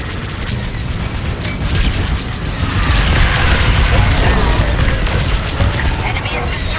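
A loud, dense burst of crashing explosion and debris noise as an enemy ship blows apart in the space combat game Star Wars: Squadrons, sustained with rumbling and clattering mechanical layers, and a voice speaks over it.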